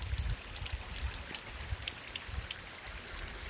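Water seeps and trickles out through gaps in a rock retaining wall under pressure, a soft continuous wet burble with small irregular drips and splashes close by.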